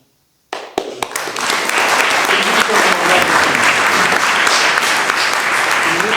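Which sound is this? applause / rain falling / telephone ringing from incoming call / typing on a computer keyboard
applause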